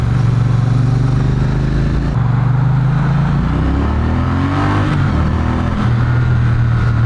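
A 2020 Triumph Bonneville engine pulling hard, its loud, close, low drone rising in pitch as it accelerates, dipping briefly, then climbing again and settling to a steady roar.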